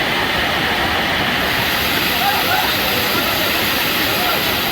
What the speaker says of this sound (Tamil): கும்பக்கரை அருவியில் வெள்ளப்பெருக்கு ஏற்பட்டது